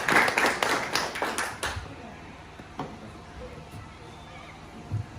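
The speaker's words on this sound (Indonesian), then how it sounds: "Kita berikan aplaus dulu bagi" Brief applause from an audience at a school presentation, a burst of clapping in the first couple of seconds that quickly fades, followed by scattered faint taps and room noise.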